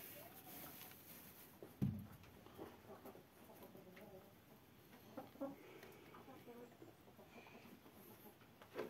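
Chickens clucking on a mountain village farm, soft scattered clucks and calls spread through a faint outdoor ambience, with one brief louder knock near the start.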